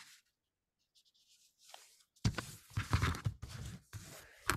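Sheets of paper are folded into a small quote booklet, with a quiet rustle followed by louder, close crinkling and creasing in uneven bursts.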